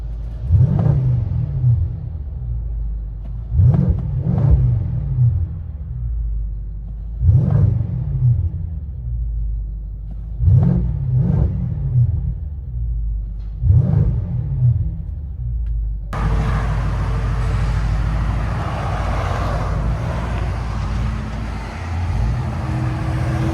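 A 2011 BMW X5 with a 4.4L V8, X-pipe and no catalytic converters, heard from the cabin: five deep rumbling revs rise and fall in a steady rhythm, then a continuous loud engine drone with road noise as the SUV drives off.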